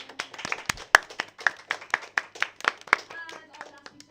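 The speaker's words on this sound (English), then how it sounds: "can we have a round of applause for our players around the room?" Scattered clapping from a small room audience for game players, individual hand claps ringing out in an uneven rhythm, fairly close, thinning toward the end as a faint voice and tone come in.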